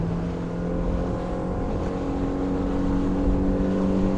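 A Quintrex 450 Fishabout Pro aluminium motorboat runs at speed, its outboard holding a steady, loud drone near 5,800 RPM with rushing water and wind hiss throughout, no voices.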